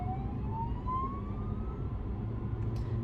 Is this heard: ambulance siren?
yes